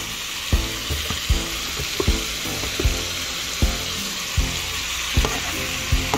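Beef sizzles hard in a pan over a flame turned up full for a rice dish, a constant frying hiss broken by regular sharp scraping stirs roughly every half second, with no voices.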